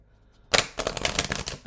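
Tarot cards are shuffled close up in a quick burst of crisp riffling and flapping that starts suddenly after a quiet moment and keeps rattling unevenly, with no voices.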